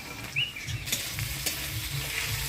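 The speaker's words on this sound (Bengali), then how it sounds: "পেঁয়াজটা হালকা লাল লাল হয়ে আসছে, এবারে দিয়ে দিব টমেটো।" Chopped onions turning light red in hot oil with whole cumin, bay leaf and chilli as tomato goes in for a Bengali bhola fish curry, a steady close sizzle with occasional stirring and faint birdsong outdoors in a village.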